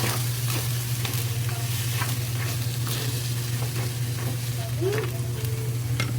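Pork leg sizzles steadily as it is stirred in a pan, a continuous frying hiss with scattered scraping clicks of the utensil against the metal, close and fairly loud throughout.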